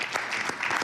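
Meeting attendees applauding by acclamation after a unanimous vote, a brief burst of dense clapping from many hands.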